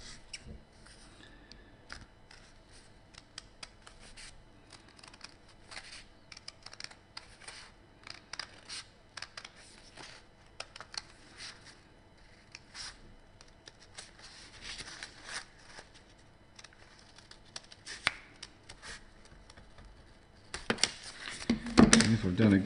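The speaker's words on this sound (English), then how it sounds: "with my scissors, I can cut it out" Scissors snip out an ellipse from paper folded into quarters, with steady close cutting and paper rustle throughout and a louder crinkle as the paper is handled at the end.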